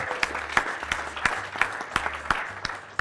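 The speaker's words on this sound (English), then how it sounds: "Give yourselves a round of applause." A small team audience claps and gives applause, with loose, moderately near hand claps in an uneven rhythm, a few sharper claps standing out and no talking.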